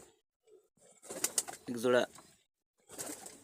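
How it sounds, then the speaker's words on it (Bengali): Imported-bloodline teddy pigeons give soft, low coos nearby, with a short burst of human speech over part of the sound. "টেডি কবুতর আপনাদের মাঝে শর্ট করাচ্ছি"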